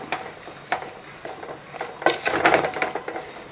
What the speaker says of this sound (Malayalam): ഇനി ഇതെല്ലാം കൂടെ നന്നായിട്ട് ഇളക്കി കൊടുക്കുക